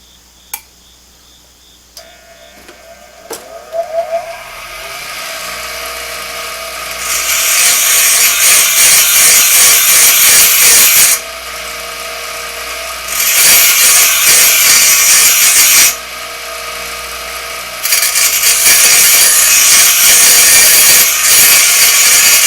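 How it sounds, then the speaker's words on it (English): Grinding metal off a T-post driver adapter so it fits an SDS drill: a power grinder spins up, then runs in three loud, harsh bursts separated by brief lower-pitched pauses, with no talk. "So I need to grind some more off till it'll fit down in there."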